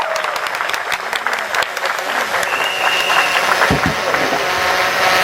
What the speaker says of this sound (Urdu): آپ کو تالیوں میں استقبال کیجیے گا